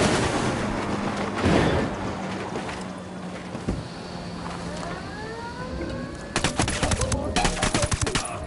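Gunfire in the shooter game Ghost Recon: Wildlands, a few scattered shots early on, then a rapid burst of loud automatic fire near the end over steady ambient game background noise.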